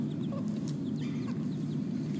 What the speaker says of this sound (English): These are red jungle fowl.